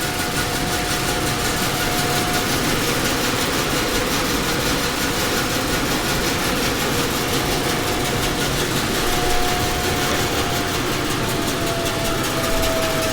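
A Centauro MM24 bandsaw fitted with a Laguna DX3 Driftmaster fence runs continuously, a steady loud mechanical drone with a faint whine, unbroken and free of talk.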